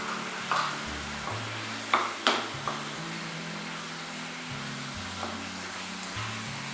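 Cut potatoes for a masala potato fry go into hot oil in a pan, giving a steady low sizzle with a few sharp clinks and scrapes of stirring, heard up close with no talking.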